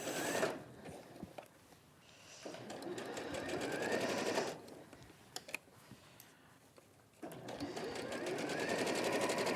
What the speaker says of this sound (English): So that's one row of stitching